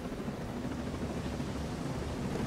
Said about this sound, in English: Look how, like, precise this chopper is.